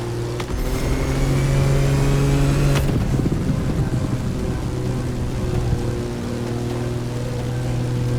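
Car with a 632 big block crate engine in The Crew Motorfest, a deep steady engine drone with strong low harmonics, idling then a brief rev swell, continuing as a loud sustained rumble.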